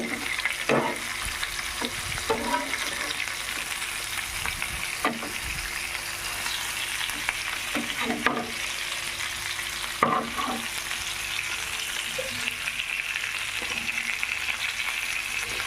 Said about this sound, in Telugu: తిప్పుకుంటూ బాగా కాల్చుకున్నాము. ఇంకైతే వేగిందండి, బాగా ఫ్రై అయింది.